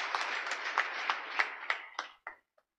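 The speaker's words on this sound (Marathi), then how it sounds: "एकदा जोरदार टाळ्या त्यांच्यासाठी एकदा होऊन जाऊ द्या" Quick scattered claps from a small crowd at a BJP party workers' rally in Kudal, a brief burst of clapping that thins out and stops after a couple of seconds, with no talking over it.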